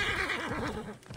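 A horse whinnies in Assassin's Creed Origins, a loud, wavering neigh rising and falling over about a second, with game ambience behind it and no talk.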